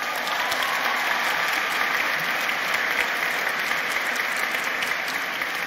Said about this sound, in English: These 8 women deserve yet another round of applause.